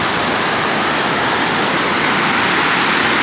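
The Tat Yai waterfall at Dong Sakhran village rushes in a steady, loud, broadband roar that continues unbroken from start to end, heard close up from the top of the falls with no talk.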